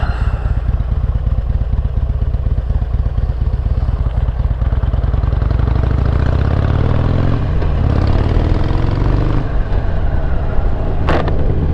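A Harley-Davidson XL883L Superlow motorcycle setting off on a ride: a loud, steady V-twin idle with rhythmic chugging that smooths into a continuous engine drone as it pulls away, ending with a sharp click.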